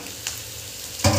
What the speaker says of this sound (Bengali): সয়াবিনটা দিয়ে ভালো করে নাড়াচাড়া করবো বেশ কিছুক্ষণ ধরে, যাতে সয়াবিনটা ভাজা ভাজা হয়ে যায়